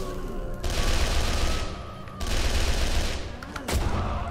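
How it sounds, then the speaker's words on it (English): Bursts of rapid gunfire from the video game Condemned: Criminal Origins, three loud volleys of shots with short gaps between them, a voice faintly present underneath. "Nope, you just keep getting shot"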